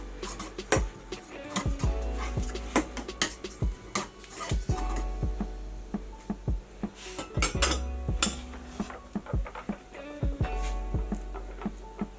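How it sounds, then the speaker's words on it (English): Oil being spread in a metal frying pan, with pan and utensil clatter, repeated scraping and clinking, close up, steady activity throughout with no talking. "You just put in a teaspoon of oil into a frying pan."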